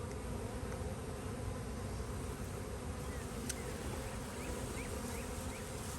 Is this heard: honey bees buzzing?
yes